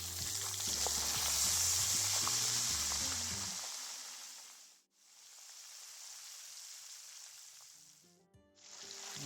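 Battered cauliflower pieces fry in bubbling hot oil with a loud, steady, close sizzle. Two brief dropouts break the sound, and a low tonal hum lies under the sizzle at the start.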